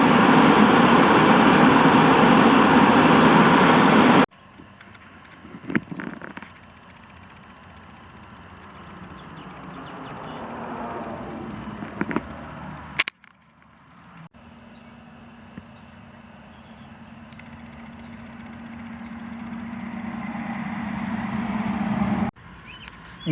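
VEVOR air movers, a 1 HP 4000 CFM CL-750-M2 and a 1/4 HP 1000 CFM BL-180, blow with a loud, rushing roar at first. Then come quieter stretches of airflow and a lower steady hum, broken by a few clicks and cuts.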